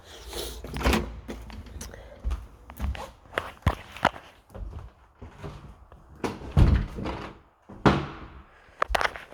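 A house front door is opened and closed with thunks and latch clicks, mixed with footsteps moving around nearby, fairly close and irregular, without talk.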